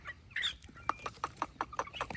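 Burmese fighting chickens, including a large black bird, cluck in a rapid series of short, evenly spaced clucks. The sound is close and moderately quiet, with a few higher calls at the start.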